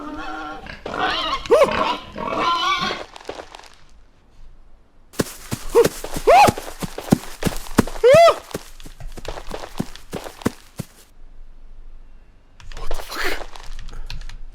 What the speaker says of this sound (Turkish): Kafam karıştığında domuzları beslerim.